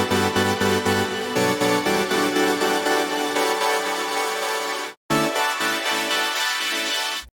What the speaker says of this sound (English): the final product of the sound of the riser sounds like this.